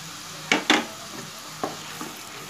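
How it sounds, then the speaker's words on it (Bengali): Ginger, garlic and green chilli paste goes into onions frying over medium flame for egg curry, with two quick, sharp clatters followed by softer stirring scrapes over a quiet sizzle. "এখন আমি আদা রসুন কাঁচা লঙ্কা বাটাটা দিয়ে দেব"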